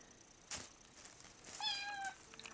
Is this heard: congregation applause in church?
no